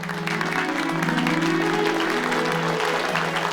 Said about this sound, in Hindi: तो बजाइए ताली और मचाइए शोर